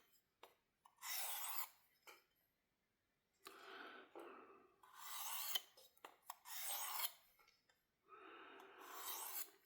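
Light passes of a knife along a 600 grit Work Sharp Field Sharpener give a series of close, dry rasping strokes, each about a second long, separated by short quiet gaps, with no talking.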